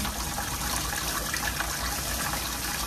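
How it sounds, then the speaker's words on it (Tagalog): Bamboo shoots (labong) boiling in a pot of water, giving a steady, dense bubbling and rushing hiss that holds at an even level throughout. "pakuluan ko lang muna itong, labong"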